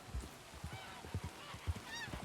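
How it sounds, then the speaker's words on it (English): Geese honk repeatedly in Red Dead Redemption II, faint and somewhat distant, with a rhythm of short calls and a few stronger ones over quiet ambience. "Some crows and geese and whatnot and ducks"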